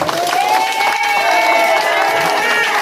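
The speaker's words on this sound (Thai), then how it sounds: "ปรบมือให้กำลังใจกับพี่น้องบ้านหนองจาม" Crowd of villagers from Ban Nong Cham cheering and applauding at an outdoor political gathering in Thailand, a steady dense wash of sound with a sustained tonal whine running through it, loud and continuous throughout.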